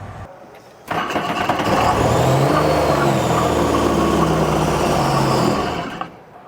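A personal watercraft engine being winterized fires up abruptly and settles into a loud, steady running drone close by, then cuts off after about five seconds.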